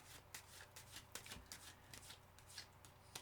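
Tarot cards being shuffled in quick riffling bursts, close and fairly quiet, with soft hand movements between flicks.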